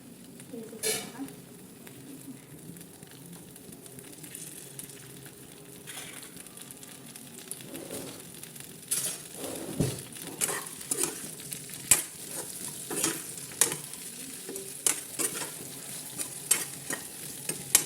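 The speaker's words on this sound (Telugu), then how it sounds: "కలుపుతూ ఉండాలి. ఇలా వేపేసుకోవాలండి." Chopped okra and green chillies frying in a pan make a continuous close sizzle, broken by frequent scrapes and clicks from stirring that grow busier and louder toward the end.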